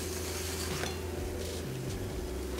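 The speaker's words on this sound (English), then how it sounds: "I'm going to plate this now." An omelette is plated while a pan and utensils are handled, giving a few light clinks and scrapes over a low steady hum. No one speaks.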